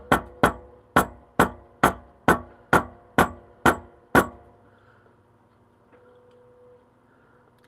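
A hammer flattens the bottom of a glass teacup plate with nine sharp, ringing strikes at an even, brisk rhythm. Quiet shuffling follows the last blow.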